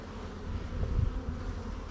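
Honeybees buzz inside a five-frame nuc box being opened for installation into a hive, a low steady hum that swells briefly in the middle, close and moderately loud with no talking.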